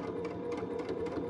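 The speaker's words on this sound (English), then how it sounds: "pushing the fabric through your sewing machine" Sewing machine stitching fabric for a child's party dress, a steady continuous motor hum with a rapid needle rhythm running close and loud throughout.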